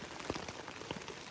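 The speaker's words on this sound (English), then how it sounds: "it's been raining most of the day" Steady rain falls on surfaces in woodland on a wet day, a dense, even patter with scattered nearer drips, quiet and continuous with no voices.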